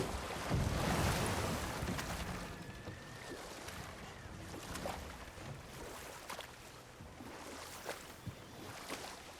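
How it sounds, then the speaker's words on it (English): Steady roaring rush of falling water near a waterfall in God of War Ragnarök, a broad continuous wash with wind-like noise throughout and no speech. "Waterfall."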